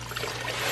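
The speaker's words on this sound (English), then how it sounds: "these 32-ounce chicken broth containers, which will have another 4 cups, so we're gonna add that in." Chicken broth from a 32-ounce carton pours steadily into a cooking pot, a continuous liquid splashing and trickling sound, fairly close and without talk.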